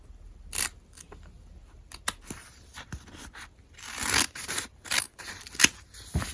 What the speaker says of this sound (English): Now you're going to cut that fabric of templates out.